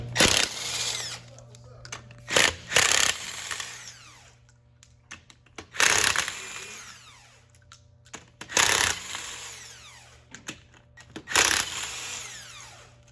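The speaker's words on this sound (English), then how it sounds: "So I'm gonna grab a 19, 17, and my impact gun." Impact gun on a Chevy Suburban's rear wheel locks, rattling in several loud, separate hammering bursts with quiet gaps between, close by; a steady low hum continues underneath.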